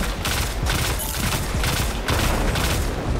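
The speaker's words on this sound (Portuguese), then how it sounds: "Você stuna ele com três tiros e depois usa o lança-granadas" A pistol in Destiny 2 fires in rapid, loud bursts of close shots, with explosive booms in a dense, continuous battle.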